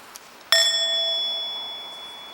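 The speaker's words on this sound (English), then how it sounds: "you are qualified to invite the bell to sound" A single bright meditation bell tone, given a soft half stroke, ringing clear and close, then slowly fading with a sustained shimmering hum.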